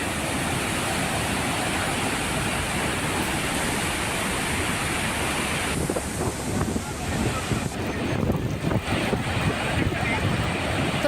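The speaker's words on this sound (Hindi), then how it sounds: "आप देखिए पानी का फ्लो काफी ज्यादा है" Heavy rushing water from dam gates opened during overflow at Mohanpura dam in Rajasthan, a loud continuous broadband roar with wind buffeting on the microphone throughout.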